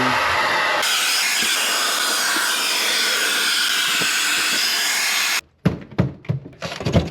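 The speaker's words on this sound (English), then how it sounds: "So we just use a hair dryer or a heat gun if you have a heat gun." A loud, steady broadband whoosh of a hair dryer or heat gun blowing on a leaking LG fridge for about five seconds, then cutting off into clunks and handling noise.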